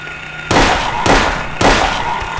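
Three loud gunshots from a handgun in the survival horror game Silent Hill, set in a hospital, spaced about half a second apart, each a sharp burst with a short decaying tail over a steady low background hum.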